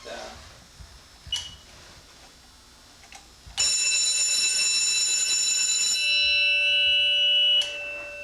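A loud, steady high-pitched smoke detector alarm shrills continuously for several seconds in a jail, after a few faint knocks and distant sounds, then cuts off abruptly.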